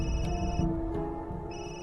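A telephone rings with a steady electronic tone, the rings repeating in short pulses over a continuous low hum, moderately loud and unaccompanied by speech.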